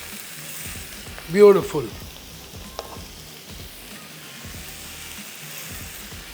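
Tangdi kebabs sizzle in butter in a pan, giving a quiet, steady frying hiss close by. A voice speaks briefly near the start, and faint clinks sit over the sizzle.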